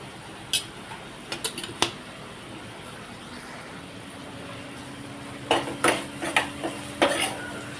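A spoon scrapes and taps against a pan while turmeric and red masala are stirred into softened onion and tomato for a cauliflower, pea and paneer dry bhaji. The knocks come in two quiet bursts over a low kitchen hiss.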